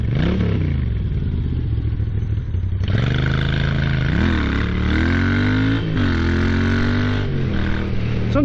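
Moto Guzzi V7 motorcycle accelerating while riding on a road, a steady loud engine drone with rising pitch sweeps as it picks up speed, some rattle and wind noise throughout.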